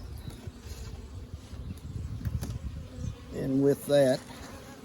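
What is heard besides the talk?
honey bees buzzing in a hive box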